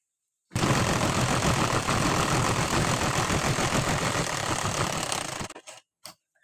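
A sewing machine runs a straight line of stitching along a blouse strip, a steady, close mechanical whir that holds for about five seconds and then stops, followed by a couple of brief knocks.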